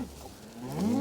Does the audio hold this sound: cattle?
yes